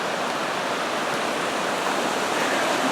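Red Creek rushing below a cliffside campsite in Dolly Sods, a steady broadband roar of flowing water, continuous and fairly loud with no voices.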